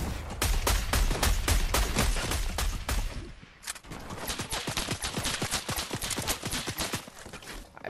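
Rapid sniper rifle fire in a Season X shooter game, an automatic sniper loosing a dense train of sharp, evenly spaced cracks, loud and close, with a brief lull before the volley resumes.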